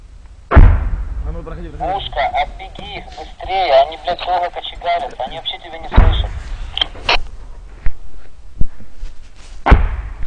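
Several heavy, sharp booms and thuds of AGS automatic grenade launcher fire ring out at irregular intervals, mixed with crackly artillery-spotting radio chatter and people talking.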